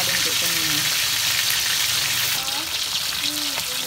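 Fresh tilapia fries in a pan in a bright, steady sizzle of hot oil that carries on throughout, with faint stirring and a few voice-like tones beneath.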